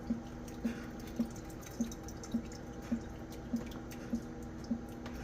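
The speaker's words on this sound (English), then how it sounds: "through the cheesecloth and the strainer, into this red bowl" Rendered beef tallow drips through cheesecloth and a strainer into a bowl, single drops falling at a steady rhythm about every half second over a low background hum.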